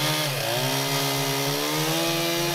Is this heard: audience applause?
no